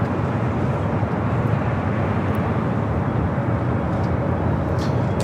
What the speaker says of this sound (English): Looks like a lot Polish Airlines flight 21 arriving on the south side. It's a 787-9 Dreamliner covered from Warsaw.